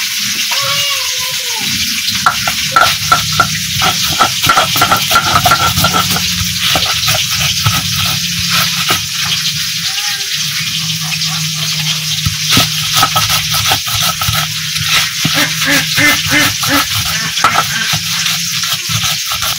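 Singi catfish frying in oil gives a steady, close sizzle, broken throughout by rapid rhythmic knocking and scraping strokes.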